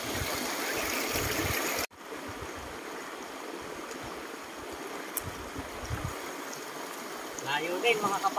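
Steady broadband rush of a waterfall feeding a stream along a hiking trail, continuous and fairly loud, with a brief dropout near two seconds and faint voices toward the end.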